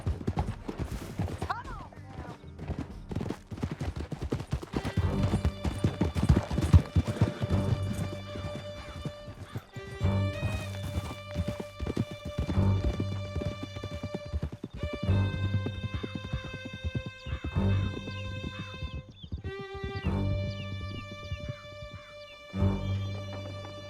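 Horses galloping in Red Dead Redemption 2, with rapid hoofbeats drumming under a game musical score and effects, occasional whinnies and voices talking over the action throughout.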